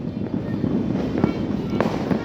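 Neighborhood New Year fireworks in the Philippines crackle and pop continuously at a moderate distance, a dense, busy rattle of small bursts with a few sharper bangs standing out.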